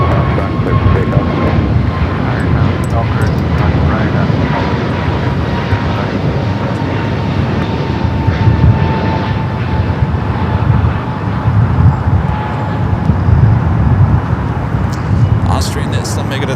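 An airliner takes off from runway 25 right at Los Angeles International Airport, its jet engines roaring loud and steady for the whole stretch, with radio chatter and voices faintly underneath.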